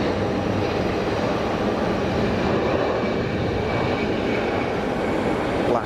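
An easyJet airliner takes off at Geneva Airport with a continuous loud engine roar that holds steady from start to finish.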